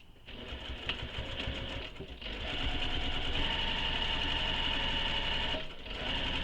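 A sewing machine runs in steady bursts, stitching two horizontal lines on a handmade backpack, its fast whirring needle rhythm close and continuous with brief pauses between runs.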